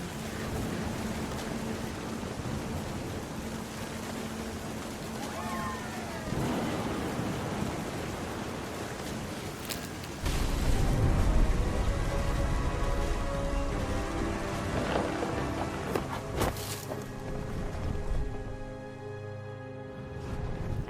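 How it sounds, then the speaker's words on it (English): A thunderstorm rages in What Remains of Edith Finch, with steady rain noise, a brief voice and deep thunder that rumbles and cracks close by in the second half. "The thunder sounded much too close and full of angry power."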